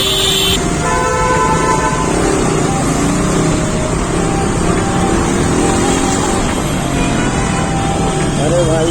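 Loud, busy road traffic near a KTM service center in Ludhiana, with engines droning and repeated vehicle horns honking and tooting throughout, and voices audible in the background.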